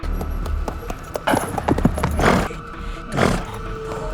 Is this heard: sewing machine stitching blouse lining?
no